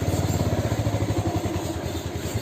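A Bajaj Pulsar 150 motorcycle riding along in third gear: a close, steady pulsing engine drone with a regular rapid throb, no voices.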